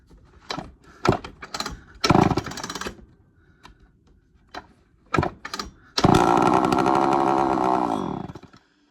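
An early Poulan 245A chainsaw engine sputters through several short bursts, then catches and runs steadily with the choke out at a loud, buzzing idle before cutting off near the end.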